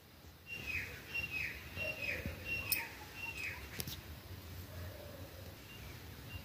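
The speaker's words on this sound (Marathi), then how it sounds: "पहाटेचे 4 वाजले 4:30 आणि पक्ष्यांचा आवाज." Birds call before dawn around 4:30 in the morning, a series of repeated thin whistling chirps, fairly faint over a quiet background hiss.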